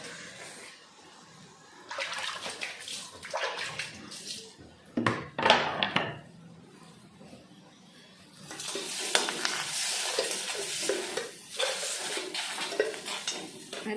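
Tomatoes roast in a hot pan on a home stove. Sizzling comes in uneven bursts with scraping and clattering handling, quieter at first and then a fuller, steady frying hiss.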